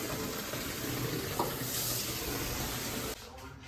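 Tap water runs steadily into a bathtub being filled for a bubble bath, a close hissing rush that holds constant and then cuts off abruptly near the end.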